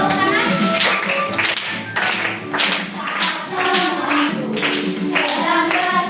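Children clap their hands in a steady rhythm along with a sung Christian classroom song about helping others, the claps loud and close under singing voices.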